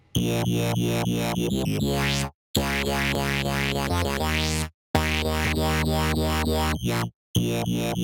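Glassy, glossy synth run through Disperser and a compressor in a remix drop: dense, bright sustained chords in bursts, cut by brief silences, with sweeping pitch glides, loud and up front.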